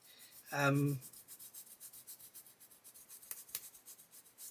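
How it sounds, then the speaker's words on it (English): A soft, repeated scratchy rubbing of a sanding stick wiped over a cleaning block, faint and close, after a short vocal sound at the start. "you just wipe it over here like that, and it cleans the sanding stick like new"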